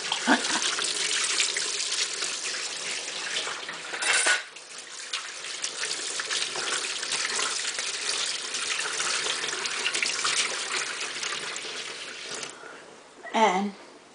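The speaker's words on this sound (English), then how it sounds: "rinse my hands off" A kitchen tap runs steadily while hands are rinsed under it, a continuous close hiss of water with a brief louder splash partway through and another near the end as the flow changes.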